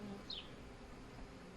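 A new honey bee swarm hums at a hive stacked with deeps and honey supers, a steady faint buzz running throughout at close range.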